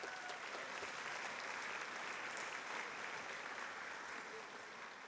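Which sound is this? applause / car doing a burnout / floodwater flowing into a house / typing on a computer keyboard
applause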